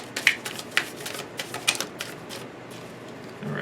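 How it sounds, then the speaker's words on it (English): Tarot cards being shuffled by hand, a run of soft papery riffles and taps close by, then a brief pause before a fuller rustle at the end. "We're gonna make that the last shuffle."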